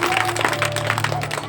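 Audience applause rings out at a devotional bhajan gathering as a guest is welcomed, a dense, steady patter of many hands clapping throughout, fairly loud, over a low constant hum.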